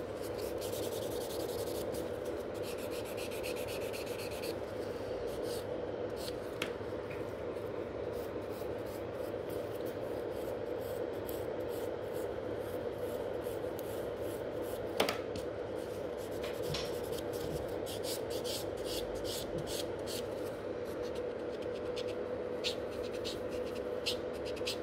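A sponge-backed buffer is worked slowly and gently over fingernails during a black-and-purple Halloween manicure, making a soft, steady, close rubbing hiss with a few faint ticks and no voices.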